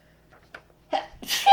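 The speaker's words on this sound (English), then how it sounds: "I think a sneeze is coming" A single sharp sneeze, preceded by a brief intake of breath, close and fairly loud.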